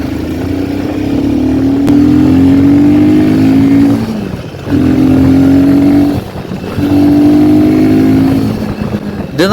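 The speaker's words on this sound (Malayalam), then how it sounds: "ഇത് നമ്മൾ വെറുതെ കൈ കൊടുത്തു കഴിഞ്ഞാൽ അത് പട്ടേന്നും പറഞ്ഞ് കയറി പോകുന്നുണ്ട്" A Royal Enfield Himalayan 450 motorcycle engine accelerates hard in three loud, close pulls, each pitch rising before a brief drop as the throttle eases and opens again.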